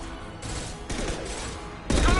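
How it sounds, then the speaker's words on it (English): An impact shot fired in the Mass Effect sci-fi shooter: a dense burst of gunfire-like blasts with a loud, sharp crack near the end, with no talk over it. "Firing an impact shot!"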